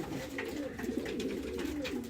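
A male pigeon coos repeatedly in low, throaty rolling phrases, close by, over a faint background hiss.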